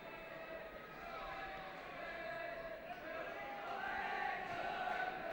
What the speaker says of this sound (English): So Dundee crowd trying to urge the Dundee team on.